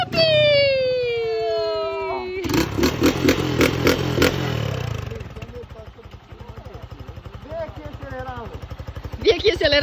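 A new motorcycle's engine idles and revs nearby with a throbbing, pulsing putter that rises and settles. Voices, including a child's, talk and shout over it.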